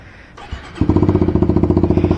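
A manual motorcycle engine catches after a brief starter whir and settles into a steady, rapid idle with even pulsing thumps, close and loud, with no talking.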